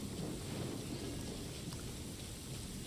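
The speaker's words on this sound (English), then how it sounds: "Oh no, it's raining." Rain falls in the Genshin Impact game world as a steady, even hiss, soft and constant throughout with no breaks.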